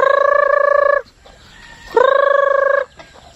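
Free-range chickens calling out in two loud, drawn-out, harmonic bursts, each about a second long, with a short quieter pause between them; close by and with no talking.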